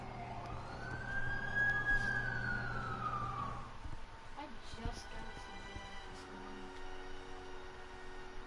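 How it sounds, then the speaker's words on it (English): An ambulance siren in The Amazing Spider-Man video game rises and falls in a loud, clear wail for about four seconds, then fades into quieter game ambience with a faint voice underneath. "That's the ambulance I called"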